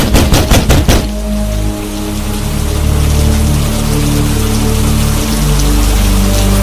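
Steady rain falls through a Bengali cartoon scene, a dense even patter that runs unbroken under a sustained musical drone after a few sharp knock-like hits in the first second.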